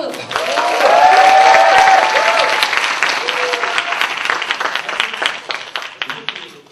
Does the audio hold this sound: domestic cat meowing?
no